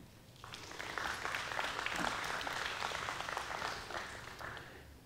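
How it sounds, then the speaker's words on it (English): A church congregation claps in steady, moderately distant applause that swells quickly, holds for several seconds and then tapers off. "I would like New Leaf to give themselves a round of applause for their discipleship and their mission"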